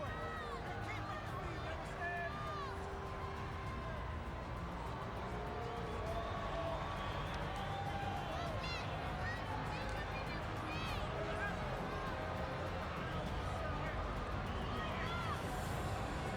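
Arena crowd noise in the wrestling video game WWE 2K24, a dense continuous roar and babble of a large audience that stays loud throughout, with commentary-like voices mixed in.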